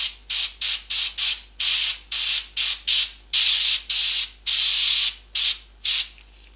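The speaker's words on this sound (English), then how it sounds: "I'm just going to get my airbrush, I'm just going to give these" An airbrush sprays touch-up paint onto a WE Hi-Capa pistol slide plate, heard as a run of short, close hissing bursts of varying length, starting and stopping in quick succession with brief silences between them.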